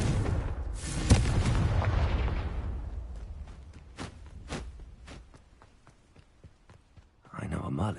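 A Confringo explosion spell in a video game erupts as a loud, close blast with a heavy rumbling tail, followed by scattered thuds and footsteps, and a voice speaks briefly near the end.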